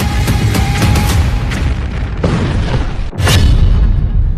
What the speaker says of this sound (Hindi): बेरूत पर बमबारी